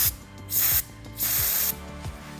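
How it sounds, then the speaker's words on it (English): White lithium grease sprays from an aerosol can onto mounting bolts for a trailer tent install, in three short hissing bursts close by over a faint mechanical background. "So we're going to take the mounting bolts and the white lithium grease and spray it on now."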